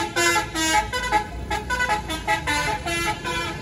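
A bus horn honks in a run of short melodic toots over steady traffic rumble, loud and close.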